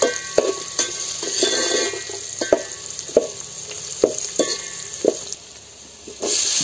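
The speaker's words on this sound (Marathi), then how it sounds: "तर आता आपण हिंग टाकलो आणि आता या सगळं मिश्रण व्यवस्थित त्याला परतून घेतो" A spice mixture with hing sizzles and fries in a pan on a wood-fired stove, with steady crackling and repeated scraping stirs at close range throughout.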